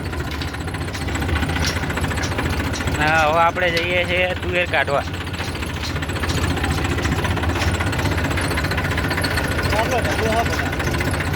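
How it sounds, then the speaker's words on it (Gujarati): A tractor engine runs as it heads out to harvest pigeon peas, a steady, loud chugging throb close by, while someone talks over it. "અમે હવે ટ્રેક્ટર લઈને જઈ રહ્યા છીએ તુવેર કાઢવા"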